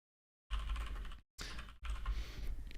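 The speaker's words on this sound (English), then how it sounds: "Everyone can hear my typing." Rapid keystrokes clatter on a computer keyboard close to a microphone, two quick runs of typing separated by a short gap, crisp and fairly loud with no talking over them.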